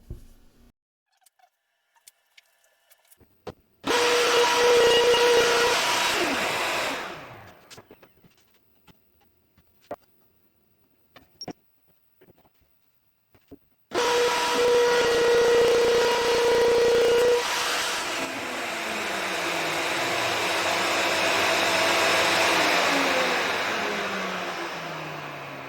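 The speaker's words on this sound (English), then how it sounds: "I need to mill yet another rabbet, so that they fit on the side panels like this." A router or milling cutter cuts a rabbet along wooden cabinet side panels in two loud bursts, each with a steady whine that runs several seconds and then spins down, separated by near silence.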